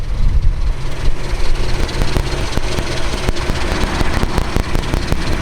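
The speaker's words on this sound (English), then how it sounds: "All right, we promised we'd fire it up." A 1948 Chevrolet Fleetline AeroSedan Woody with its Blue Flame Six, cold, fires up and settles into a low idle around 500 to 600 RPM, a loud, steady, rumbling drone close by with no voices.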